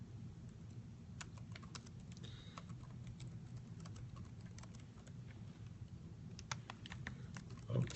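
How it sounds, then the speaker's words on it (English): Keys tapped on a computer keyboard while a donation query is entered, soft irregular clicks over a steady low hum, with a louder bump near the end. "someone typing in where can they get their donation to"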